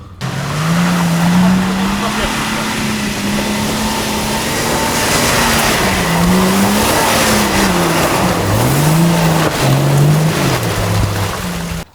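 A Jeep Wrangler LJ driving off-road, its engine droning loudly and steadily with the pitch rising and falling as it works over uneven ground.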